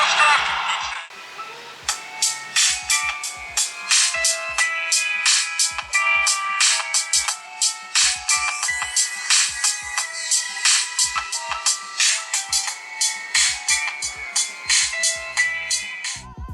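A phone ringtone plays loudly and steadily from the built-in speaker of a Google Nexus One (HTC) smartphone, a bright repeating melodic tone pattern with a regular pulse, running continuously and alone.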